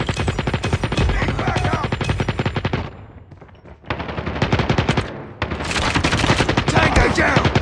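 Desert Eagle pistol fire in the mobile game Call of Duty Mobile comes in loud, rapid strings of shots with a brief lull midway, and a game voice calls out over the gunfire.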